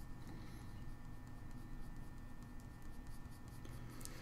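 Colored pencil gliding across paper during a cat-eye drawing, a soft continuous scratchy rasp with faint tick-like strokes, close and steady throughout with no voices.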